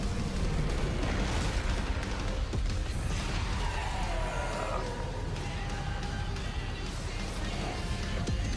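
A meteor explodes in a Death Battle animation with a dense, continuous roaring blast and rumble, loud and unbroken throughout, with booming low end.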